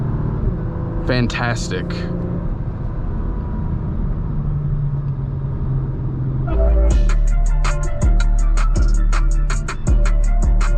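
A 2024 Acura TLX Type S SH-AWD accelerates uphill, its engine a low, steady rumble heard from inside the cabin that swells louder partway through, with someone speaking briefly over it.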